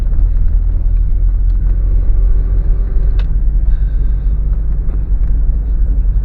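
A Tofaş Doğan SLX car drives slowly around an industrial area, its steady low engine rumble and road noise continuous and close throughout, with a brief sharp knock partway through.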